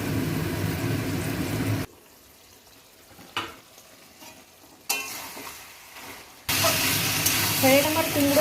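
Pumpkin and pointed gourd curry frying in a pan, crackling sizzle and stirring scrapes that cut out to quiet stretches, then return loud with bubbling hiss.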